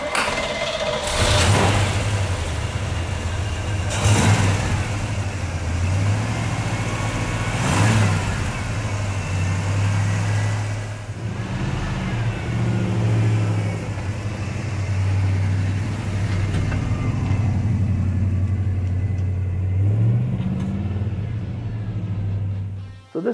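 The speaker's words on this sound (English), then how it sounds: "this is my 1965 GTO" A 1965 Pontiac GTO engine idles with a deep, steady rumble while several sharp revs punch in and fall back over more than twenty seconds, close and loud, with no talking.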